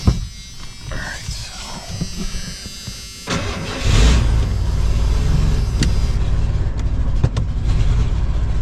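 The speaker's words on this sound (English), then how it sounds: "We're driving." A 1990 Ford van bought cheaply at auction pulls off and drives, its engine a steady low rumble that swells after a few seconds and holds, with a voice talking over it.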